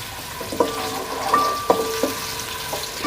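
A medium onion, sliced, fries in half a cup of oil in a cooking pot, giving a steady close sizzle with a few light clinks from stirring.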